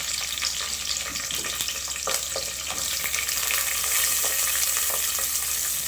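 Small onions drop into hot oil with spluttering cumin seeds, sizzling and crackling steadily at close range with occasional stirring scrapes and pops, no voices.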